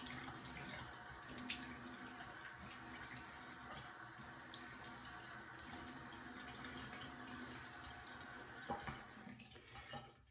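Cold water runs steadily from a bathroom tap into a sink during a shave, a continuous close splashing rush with faint drips and small shifts in flow near the end.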